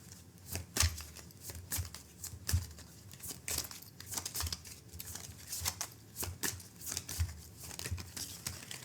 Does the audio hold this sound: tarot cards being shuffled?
yes